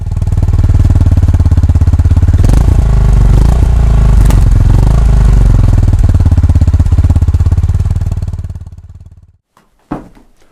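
A loud Honda GB350S motorcycle engine runs steadily with a deep, rumbling roar, rising in intensity before cutting off abruptly near the end, followed by a brief burst.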